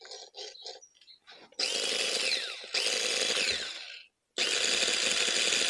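An orbital polisher with a polishing pad, used on the rear light of a Peugeot 207, whirs in loud sustained bursts after a few brief starts, with a short pause before it spins up again.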